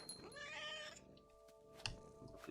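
A cat meows in the game What Remains of Edith Finch, one drawn-out plaintive meow, then quieter ambience with a couple of soft thumps and rustles.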